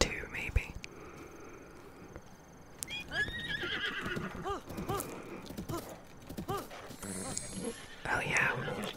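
A horse in the video game Breath of the Wild neighs and whinnies several times over soft whispering, with hoof clip-clops and game sounds throughout.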